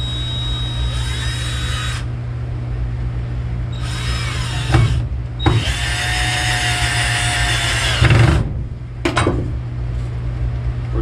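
A power drill drives screws into wood while a bed storage platform is built in a garage. It gives loud, close whining runs of several seconds each, separated by short pauses and the odd clack, with no talking.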